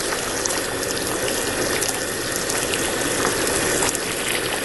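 Water pours from a garden hose in a steady, dense rush, close and constant throughout with no voices.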